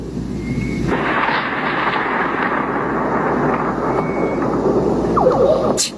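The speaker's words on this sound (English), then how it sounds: "Listen to this strange thunder." Strange-sounding thunder in Florida rolls as a steady, broad rumbling roar that holds for several seconds, dense and unbroken, with faint high tones threaded through and a sharp crackle near the end.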